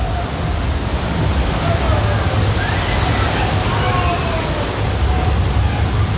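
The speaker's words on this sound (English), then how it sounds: "this ride is almost, you're guaranteed to get wet. Here they are coming down." Water ride boats splashing down at Infinity Falls, SeaWorld, heard as a dense, continuous roar of rushing and splashing water, loud and close, with a voice talking beneath the wash.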